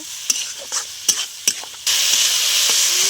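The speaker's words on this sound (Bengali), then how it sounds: "তো আমি চিকেনটা কষিয়ে নেব।" Chicken with red chilli, turmeric and salt sizzles while being sautéed in a pan, with a few stirring scrapes, then a loud steady frying hiss takes over near and alone.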